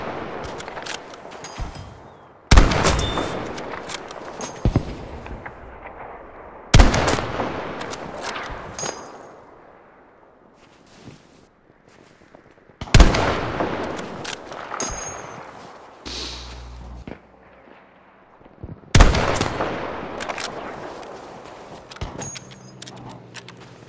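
Gunfire in the video game Battlefield V: four or five sharp, loud bursts spaced several seconds apart, each decaying into rattling echoes and quieter shots, with no talking.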